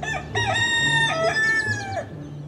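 A red junglefowl rooster gives a loud, close mating crow, a drawn-out harmonic cock-a-doodle-doo lasting about two seconds over a low background hum.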